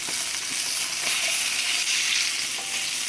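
Salmon fillets sizzle loudly in a hot pan, a close, steady crackling fry with small bumps and clatters as a fillet is flipped; nobody talks.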